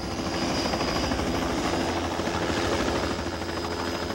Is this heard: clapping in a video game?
no